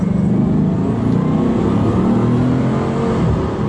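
A Bugatti engine revs loudly and steadily close up as the car accelerates, with a continuous droning roar and slight pitch shifts from short shifting, with no speech.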